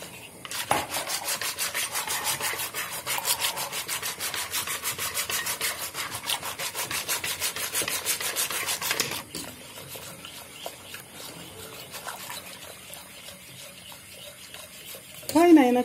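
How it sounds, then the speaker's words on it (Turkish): A spoon stirs a sucuk and ground walnut mixture with added water in a pot, making fast, rhythmic scraping strokes for about nine seconds before it settles into a quieter bubbling simmer, ending with a brief louder clatter. "Kaynayana kadar karıştıracağım."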